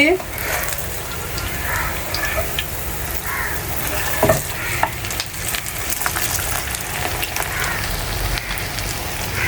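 A chini pora pitha fries in a pan while it is flipped, giving a dense crackling sizzle with a few bumps and scrapes, loud and close.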